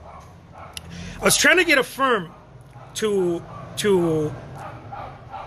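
A dog barks in a few sharp, close bursts inside an art studio, the yelps overlapping someone talking indoors.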